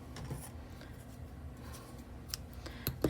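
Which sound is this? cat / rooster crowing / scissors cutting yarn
scissors cutting yarn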